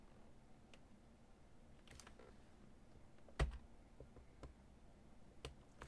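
Quiet, sparse clicks of typing on a computer keyboard during web design work, scattered single keystrokes at irregular intervals with one sharper louder tap midway and no talking.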